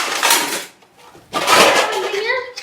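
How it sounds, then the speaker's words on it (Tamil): Metal pots and vessels clank and rattle while being packed for a house move, two loud bursts of clattering separated by a brief pause, close by, with a voice briefly audible. "பாத்திரம் ஒன்னா ஏற கட்டிட்டு இருக்கோம்"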